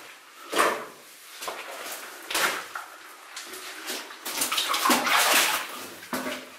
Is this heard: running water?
yes